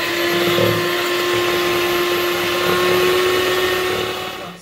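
Electric mixer whirring steadily as it blends milk into waffle batter for Viennese waffles, a loud continuous motor drone with a faint high whine that holds for several seconds before easing off.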